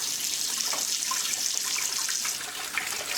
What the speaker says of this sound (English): so I'm finna add my spring water